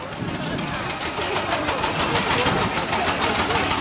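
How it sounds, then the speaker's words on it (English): A 4-inch Burrell steam traction engine runs steadily at a show's arena parade, a continuous loud mechanical chuffing and rumble with rhythmic beats throughout. "B30 is a 4-inch Burrell traction engine."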